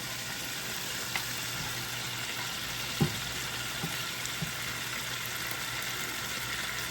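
Sardines sizzle steadily in a hot pan while pasta sauce is cooked, a constant close frying hiss with a soft clunk of a utensil partway through.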